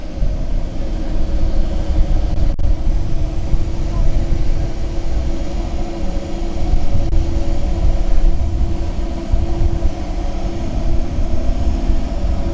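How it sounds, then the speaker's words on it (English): A constant low engine rumble and whine as a tour helicopter idles and warms up before takeoff in the Whitsundays, Australia, steady and fairly loud. "right, folks, here goes the helicopter's getting ready to take off"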